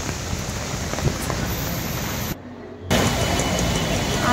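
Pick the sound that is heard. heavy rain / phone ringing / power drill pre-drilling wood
heavy rain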